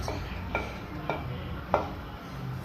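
Onions stirred in a hot pan on a gas cooker, a few soft scraping strokes and light clinks repeating about every half second over a low background sizzle, fairly quiet and close.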